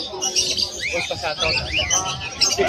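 Hagoromo parakeets in a Malabon pet market chirp and squawk in busy overlapping calls, with people talking close by throughout.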